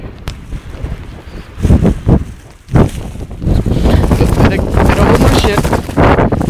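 Strong gusty wind during Hurricane Sandy on a wet street, buffeting the microphone in heavy rumbling bursts that grow into a sustained roar, with a person talking briefly over it.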